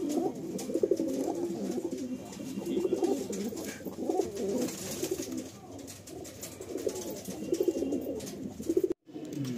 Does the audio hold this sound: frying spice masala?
no